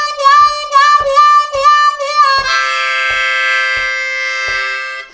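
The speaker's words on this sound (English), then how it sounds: "We're playing a sequence of 4 draws, which we are putting inflections on" C harmonica playing a run of 4-hole draws with bent, wavering inflections, then settling into a long held chord, loud and close with a faint regular click beneath and no talking.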